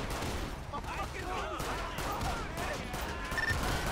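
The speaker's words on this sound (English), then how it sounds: "Shots fired, shots fired." Rapid gunfire from a police shootout in GTA 5 with the LSPDFR mod, a dense continuous burst of shots mixed with game noise and voices over about four seconds.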